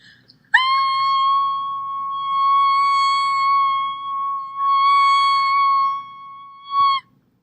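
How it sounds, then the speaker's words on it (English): A person screams loudly and continuously, one long sustained steady-pitched yell held for about six seconds while spinning around, with a brief extra burst at the end before the voice cuts off. "I'm going to scream as loud as I can, and I'm going to keep screaming as loud as I can while I spin around"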